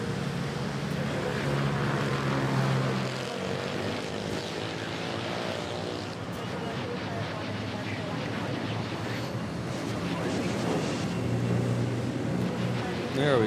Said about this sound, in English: Philippine Airlines taking off to Bacolod.